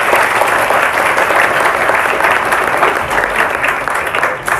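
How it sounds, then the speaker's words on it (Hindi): A group of children claps together, a steady, dense patter of small hands that stays loud and even for a few seconds. "एक बार अपने लिए तालियां बजाओ सभी बच्चे।"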